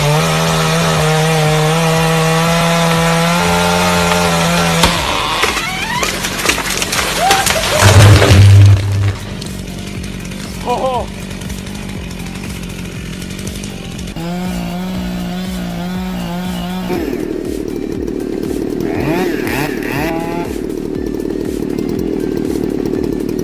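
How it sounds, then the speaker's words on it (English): A chainsaw cutting into a tree snarls with loud, rough buzzing. The motor revs and strains in bursts, then settles into a lower steady drone with changes in pitch as the cut proceeds. "Imagine being alone, miles from help, with just a broken chainsaw and that sound echoing around you."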